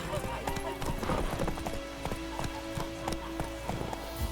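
Roach, the horse in The Witcher 3: Wild Hunt, galloping in a steady, loud clip-clop of hooves with a brief neigh, while game voices talk over the hoofbeats.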